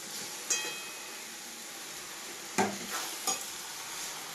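Mutton frying in a pan keeps up a constant soft sizzle while tongs stir and scrape it, producing three sharp metallic scrapes spaced a second or two apart.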